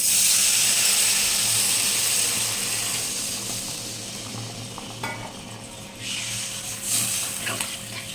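Water poured into a hot pan of fried potatoes and jackfruit sets off a loud, steady sizzle that slowly fades over several seconds, with a few clinks of a utensil stirring near the end.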